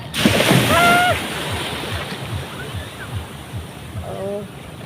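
Sea waves wash and break along a crowded beach at Dagupan, a broad steady surf hiss running throughout with a louder surge near the start, while voices and shouts of beachgoers carry over it.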